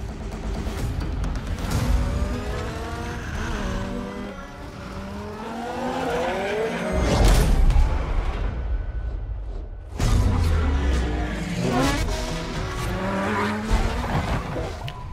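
Race cars in the video game Forza Motorsport 7 roar past with rising and falling engine notes, gear shifts and tire squeal, loud and continuous, with a sharp cut to another burst of engine noise partway through.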